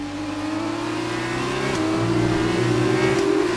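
An F1 race car in the video game F1 2019 accelerates with a loud, steady engine whine that climbs gradually in pitch, with a short shift dip partway through and no talk over it.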